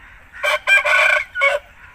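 An aseel rooster with a broken tail crows once nearby, a loud, clear call in several rising and falling segments over about a second, then a short final note, alone over quiet background.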